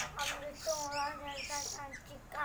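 Young magpie robin chicks, about two to three weeks old, chirping close by in a steady run of high, thin calls with only brief pauses.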